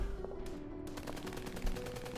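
Rapid bursts of gunfire crackle through a dense, continuous battle din of metaflux explosions in the Love and Deepspace video game, with sharp repeated shots and a heavier thump near the end.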